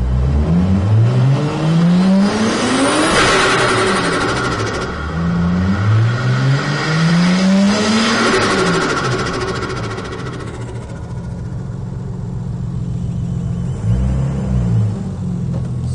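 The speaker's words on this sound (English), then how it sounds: "I'll rev through a little bit and make sure that we don't have a massive amount of timing drift as we rev through the RPM range." A car engine on a tuning setup revs repeatedly through its RPM range, rising and falling in several loud sweeping pulls before settling toward idle and blipping once more near the end.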